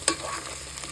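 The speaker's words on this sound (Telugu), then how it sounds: "ఉల్లిపాయలు కొంచెం వేగేయండి." Onions frying in a pan for a paneer kaju curry gravy, a soft steady sizzle with a faint stir or clink near the start, heard alone at moderate level.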